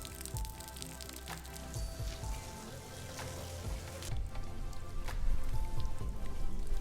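Rain falling on Taiwan's north coast, a dense, steady patter of drops on surfaces that swells slightly louder toward the end, heard alone without any talking.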